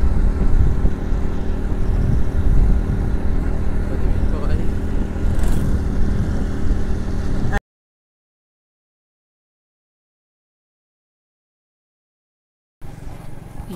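A motorcycle is ridden along a lakeside route, its engine a steady close rumble mixed with wind noise, cutting out into silence for several seconds before the ride noise returns.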